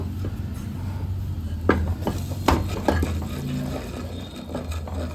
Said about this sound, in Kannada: ಸ್ವಲ್ಪ ಸ್ವಲ್ಪನೇ ಹಾಕ್ಕೊಂಡು ಒಂದು ಹಿಟ್ಟಿನ ಕೋಲಿನ ಸಹಾಯದಿಂದ ತಿರುಗಿಸ್ಕೊಳ್ಬೇಕು